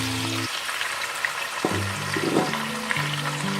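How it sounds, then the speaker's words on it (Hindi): Chicken frying in a pan with ginger and garlic gives a steady sizzle and crackle under a low hum, with a few stirring knocks and scrapes, close and moderately quiet, no talking. "अब हम इसमें चिकन डाल देंगे"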